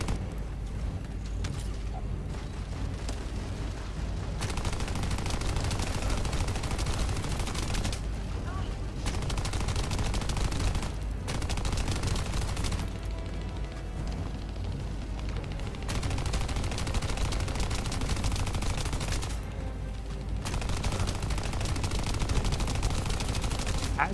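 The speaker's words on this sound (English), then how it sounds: "I just shoot them immediately." Gunfire in the video game The First Descendant, with sustained weapon fire and blasts layered throughout a loud, continuous game mix that has brief gaps, while a player talks over it.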